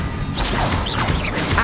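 A Confringo blasting spell in Hogwarts Legacy bursts with a dense crashing impact and swishing rush, one short loud explosion-like hit.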